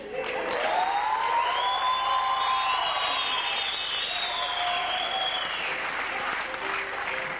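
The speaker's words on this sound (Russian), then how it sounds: "бурные аплодисменты" Enthusiastic audience applause and clapping at a comedy show, a dense, steady roar of many hands that stays loud throughout, with faint cheering and whistle-like tones over it.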